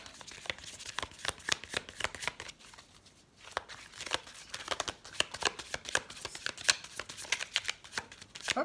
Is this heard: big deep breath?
no